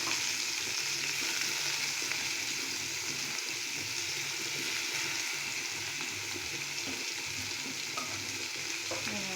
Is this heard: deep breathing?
no